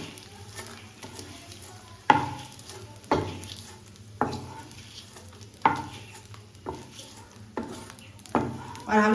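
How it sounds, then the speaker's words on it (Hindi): Edible gum (gond) roasting in a pan over a low flame, with a soft continuous sizzle broken by regular scraping stirring strokes about once a second, close and moderately loud. "इस तरह से कंटिन्यू चलाते हुए हम इसको धीमी धीमी आंच पर अच्छे से भून लेंगे"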